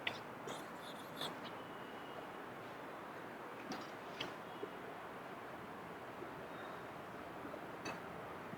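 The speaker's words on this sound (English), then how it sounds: "I'll write it down here." Chalk or marker taps and scratches on a lecture board, faint and intermittent against a steady room hiss, with no talking.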